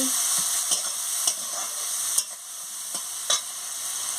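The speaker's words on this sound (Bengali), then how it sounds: "দিয়ে ভালো করে মশলাটাকে ভেজে দিচ্ছি" Ground spices with salt and chilli powder being stir-fried in a pan for a sea fish dish, a steady soft sizzle broken by sharp scraping and tapping strokes of a spatula.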